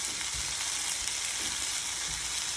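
Butter melting into a hot pan while cooking chicken tikka masala gives a dense, continuous sizzle, loud and close, with faint low thumps underneath and no voices.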